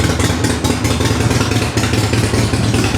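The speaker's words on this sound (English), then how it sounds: "This thing, when we get it down off the high idle, it sounds nasty." Harley-Davidson Sportster motorcycle engine idling loud and close, a rough, lumpy, uneven rumble with rattling clatter running steadily throughout, no voices.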